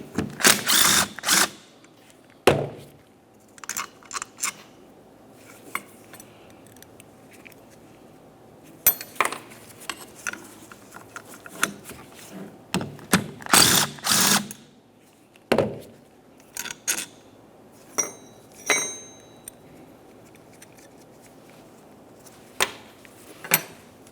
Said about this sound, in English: We'll use a wrench to hold the nut and remove the bolts from each.